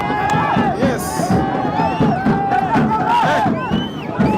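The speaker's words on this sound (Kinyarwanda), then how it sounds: "Abafana ubona ko bishimye cyane." Rayon Sports football fans cheer in a stadium. The crowd is loud and near, with shouting, whoops and overlapping voices.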